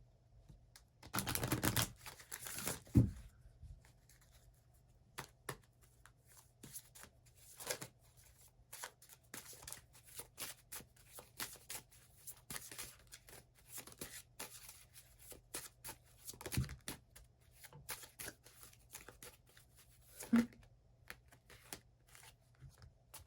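A Romance Angels tarot deck is shuffled in close, quiet bursts of riffling and card flicks, with soft taps and pauses between them and no talking.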